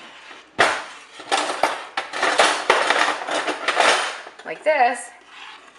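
Fresh strawberries crushed in a bowl with a potato masher give a run of wet, squelching thumps and clinks of metal against the bowl, fairly close and loud, before a voice speaks briefly at the end.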